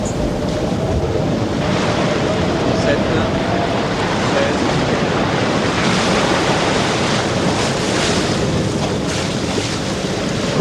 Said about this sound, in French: il va falloir négocier un orage avec son cortège de bourrasques et de vagues menaçantes